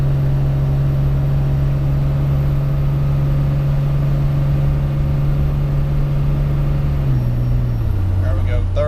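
Ram 2500 pickup with a 5.9 Cummins diesel and 48RE transmission towing 20,000 pounds in second gear with the converter unlocked, a steady loud drone that drops in pitch near the end as it shifts, with talk over it.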